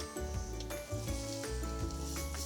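Garlic sizzles in a hot pan for vegetable stir fry noodles, a steady close frying hiss with faint stirring scrapes throughout and no one talking.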